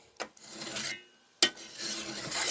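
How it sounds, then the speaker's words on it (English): A metal file rasps along the honing edge of a cabinet scraper in two long strokes, each starting with a sharp scrape, close and loud with no talking. "we just flip the file and we do the same thing with the honing edge"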